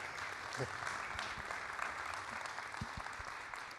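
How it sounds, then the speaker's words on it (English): An audience at an industry conference applauds an award winner receiving the Marty King Award, a dense, steady wash of many hands clapping throughout, moderately loud and without speech. "could we have another round of applause for our Marty King Award winner?"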